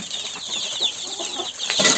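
Young chicks on a small farm peep and cheep in a soft, scattered chorus of high, thin chirps heard close by at low volume.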